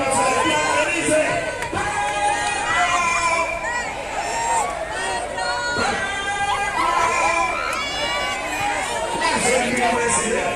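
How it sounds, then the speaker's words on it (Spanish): A political rally crowd in Turbaco, Bolívar, roaring and applauding for senator Gustavo Bolívar, a dense, continuous wash of cheering, shouting and clapping that stays loud throughout. "fuerte aplauso para el senador Gustavo Bolívar"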